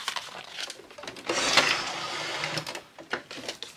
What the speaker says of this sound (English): I'm going to just sew around this whole bit.